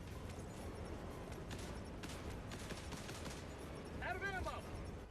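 Distant, muffled gunfire and explosions in Helldivers 2 rumble under steady battle noise, with a brief chirping tone near the end and a voice talking.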